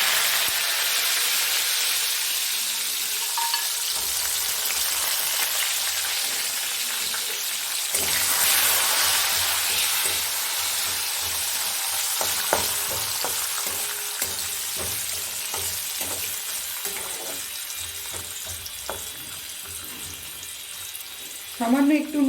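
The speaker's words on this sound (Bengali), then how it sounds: "আমি এবার এই চিনে বাদামগুলো নুন মাখিয়ে রেখেছি, এগুলো ভেজে নেব।" Salt-rubbed peanuts fry in a pan over low gas flame, giving a steady close sizzle with repeated scraping and stirring taps that grow busier toward the end.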